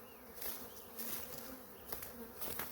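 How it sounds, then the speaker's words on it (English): Honeybees flying around the entrance of a backyard hive, a close, continuous buzzing hum with individual bees swelling louder as they pass near, faint and without talk. "As you can see, the bees are flying around here."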